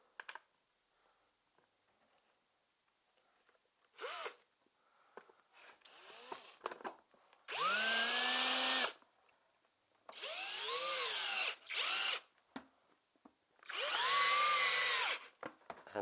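Power drill driving a bolt home during assembly of an NRG50 10-inch KTM replica dirt bike, several short bursts of whirring motor that rise and fall in pitch, with quieter clicks and handling noises between them.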